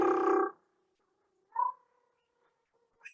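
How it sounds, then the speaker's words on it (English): A person does a rolled-tongue trill vocal exercise, a buzzing half-second burst of voiced fluttering followed by softer, shorter vocal sounds amid near silence, close and quiet. "Now the second one is to roll your tongue."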